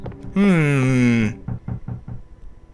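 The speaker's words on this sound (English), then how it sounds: "Someone's knocking at the door." A door knock from the video game EarthBound: after a sustained electronic musical tone, a string of five or six evenly spaced knocks raps out close and clear, with no talk.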